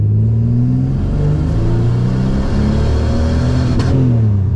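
A supercharged, turbocharged 3800 V6 in a Pontiac Bonneville SS revs hard in a single loud, steady second-gear pull, its pitch climbing then dipping briefly before rising again, close by.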